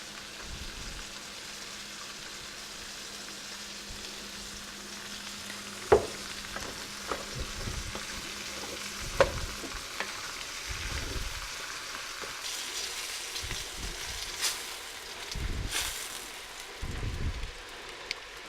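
Beef browns in olive oil in a pot, a steady close sizzle with scattered clinks and stirring scrapes throughout.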